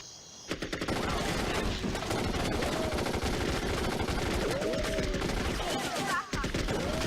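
Dense video-game gunfire from a Shadow Company mission fills the whole stretch, rapid machine-gun bursts and overlapping shots forming a loud, continuous fusillade with brief faint voices beneath.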